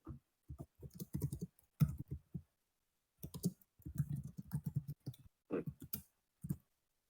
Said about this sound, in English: What are you typing, Ragnar? I hear you typing.